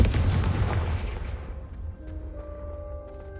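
A Confringo fire spell blasts candelabras in Hogwarts Legacy with a heavy booming explosion that rumbles and fades over a few seconds. Faint chiming tones ring out as the blast dies away.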